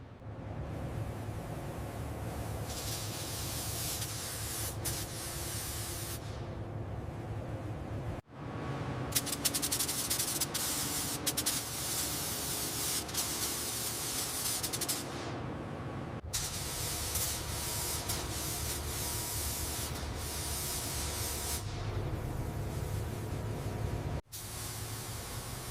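Spray gun laying a third coat of paint onto a Mercedes Titan X24 heavy truck during restoration, a steady loud hiss running nearly nonstop with two brief cutoffs where the trigger is released.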